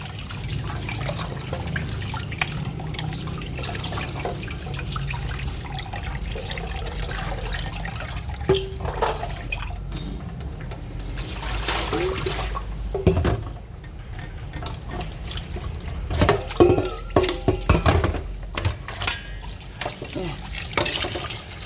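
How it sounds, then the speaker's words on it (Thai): Tap water runs into a bowl to rinse pork bones in a home kitchen, a steady close trickle and splash under someone talking, with occasional clinks and rinsing sounds. "เสร็จแล้วเราก็เปิดน้ำใส่อีกรอบนะคะ"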